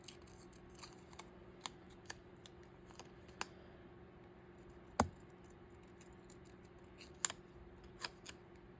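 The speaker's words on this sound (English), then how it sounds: "Cut off some of this excess sticker border" Scissors snip away excess border from stickers in a quiet room, a series of sharp, isolated close-up clicks spaced irregularly, with one louder cut in the middle and another near the end.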